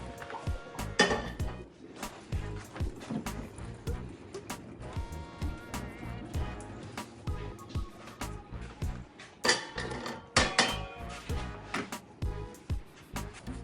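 Boiled potatoes are drained through a pasta strainer and tipped back into a bowl, producing a fairly faint, irregular run of metallic clanks, clinks and knocks with scraping between them, with no talking.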